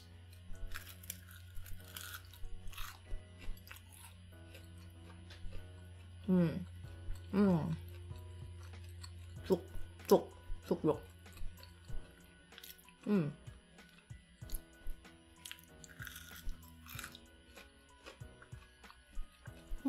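Crunchy dinosaur-shaped chicken nugget being bitten and chewed close to the microphone, a few sharp crunches and moist chewing bursts spaced out over quiet room tone, with someone speaking briefly.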